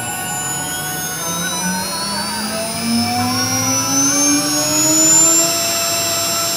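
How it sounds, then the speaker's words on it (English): A 3.5 horsepower 220 V water-cooled spindle whines up to speed, its steady tones sliding upward as it accelerates, loud and close with no talk. "this is about a three and a half horsepower spindle, 220 volts"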